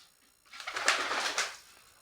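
A pigeon coos once at its nest, a soft, close, rolling call lasting about a second against a quiet background.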